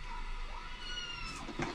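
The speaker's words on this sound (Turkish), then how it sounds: "Benim kedi de sürekli miyavlıyor da." A house cat gives a single drawn-out meow in a kitchen, close and moderately loud, rising and then falling, with a brief clatter at the end.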